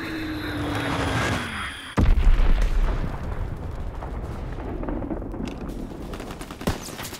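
Azon bomb explosions in the Call of Duty WWII video game land with a sudden deep boom partway through, amid continuous rattling gunfire and battle noise that carries on loud to the end.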